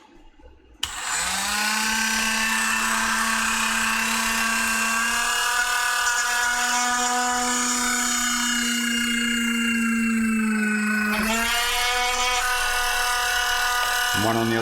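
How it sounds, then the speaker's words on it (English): A power drill bores out the centre of a moulded cockpit panel part for a Boeing 737 home simulator, running as a steady high-pitched whine for most of the span, with a brief pitch dip near the end. "we're just looking to drill out that centre"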